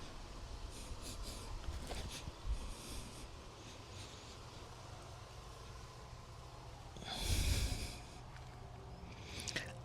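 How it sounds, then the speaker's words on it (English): Compost is folded by hand over freshly sown winter carrot rows, making soft, scratchy rustles. A louder, closer scrape of earth comes near the end, and no one speaks. "So now I just fold the compost over the carrots."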